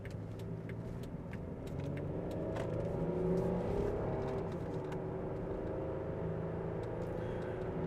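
A 2002 Chevrolet Monte Carlo Dale Earnhardt Signature Edition accelerates from inside the cabin, its engine hum rising in pitch, dipping through a gear shift, then climbing again over steady road noise and small interior rattles.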